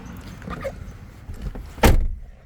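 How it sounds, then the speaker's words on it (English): The door of a Jeep Gladiator Willys truck shuts with one sharp, fairly light thump near the end, after faint handling noises, close by and with no talking. "And that door doesn't sound that solid."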